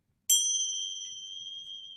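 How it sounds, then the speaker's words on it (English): One clear strike of a bell at the start of a yoga practice, a bright metallic ding that rings out and decays slowly over about two seconds in a quiet room. "With the sound of the bell to remind us."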